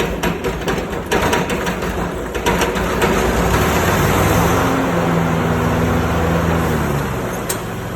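A riding lawn mower engine running with its blades engaged at low throttle, a loud steady droning rumble with clanking mechanical rattles early on that settles into an even hum.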